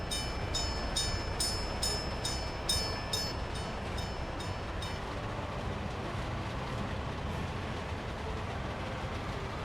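A 1930s-era train runs in the city-building game Workers & Resources, a steady rumbling roll with a rhythmic chiming signal repeating over the first half, moderately loud and unbroken.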